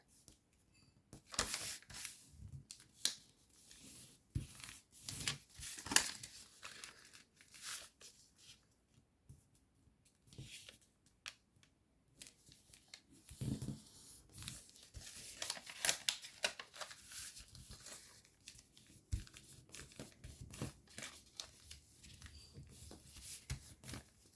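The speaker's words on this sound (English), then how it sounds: "You're going to rabbit ear fold the top flap." A sheet of paper is creased and folded into a jet-style paper airplane with rabbit-ear and squash folds, making intermittent quiet crinkles, rustles and sharp creasing snaps up close.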